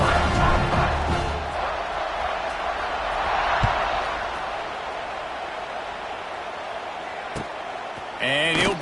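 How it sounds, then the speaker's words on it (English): A stadium crowd in the NCAA 26 football video game buzzes and cheers steadily in a broad, continuous roar, with brief thumps and a short burst of voices near the end. "this crowd is buzzing after that last score"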